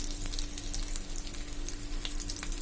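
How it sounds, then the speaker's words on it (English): Chicken pattice shallow fries in hot oil, a steady close sizzle with crackling pops throughout, with no voices. "let the bottom side of it be fried, shallow fried, to get the same color as we need"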